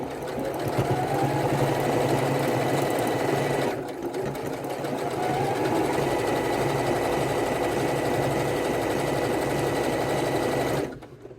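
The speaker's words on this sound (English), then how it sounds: "my sewing machine actually does better working with elastics than my cover stitch" A sewing machine runs steadily while stitching fold over elastic, a close, continuous mechanical whir with a brief pause near the four-second mark before it resumes and then stops at the end.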